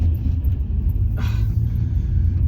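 A 3.2-litre Audi TT Mk1 drives along with a low, steady interior rumble, and a brief brighter burst of road noise cuts in midway.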